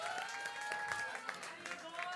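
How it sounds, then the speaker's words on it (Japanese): Applause from a live concert audience, fairly faint and uneven, with a sustained tone and scattered sounds running through the clapping. "大きな拍手を。"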